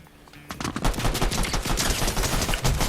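Rapid gunfire from the Lock on Pistol in Fortnite Chapter 5 Season 1, a loud, dense burst of quick repeated shots that continues almost without pause, close and alone.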